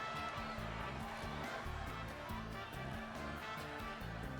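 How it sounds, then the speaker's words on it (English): Crowd noise from a wrestling video game arena: a steady, dense roar of audience reaction with rhythmic low chanting or music pulses running underneath, continuous throughout. "you can hear the crowd's reaction"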